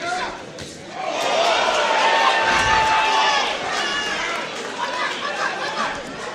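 A boxing arena crowd in Bethlehem, with dense chatter and cheering that swells in the middle and holds steady under a commentator's voice.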